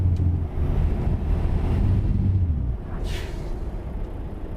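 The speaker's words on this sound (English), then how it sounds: "Watch this. This is engine brake now." Truck engine brake in American Truck Simulator, driving through a snowy blizzard: a deep, steady rumbling drone with windy noise over it, easing off and thinning out about halfway through.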